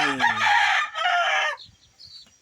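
Young chicks and roosters of street comb and roundhead breeds, six chicks in all, give a loud rooster crow that fills the first second and a half, followed by faint scattered peeps and clucks.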